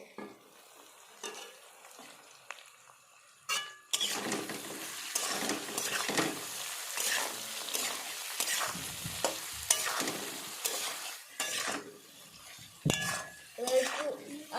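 A spoon scrapes and stirs chilli paste frying in a pan for a mango and climbing perch fish curry, with a steady sizzle and clinks of utensil against metal after a quiet start.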